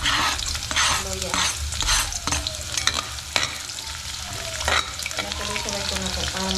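Onion, garlic and ginger sautéing in a hot pan, a steady loud sizzle of frying with repeated scraping and stirring strokes of a utensil throughout.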